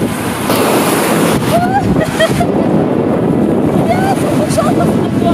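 Sea surf breaks and washes onto a beach in a loud, constant rush, with heavy wind buffeting the microphone, brief faint voices, and a few high calls partly masked by the noise.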